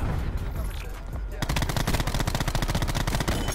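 A DAEMON 3XB MKII gun in a shooter video game, firing a loud, steady stream of rapid shots at close range over continuous game noise.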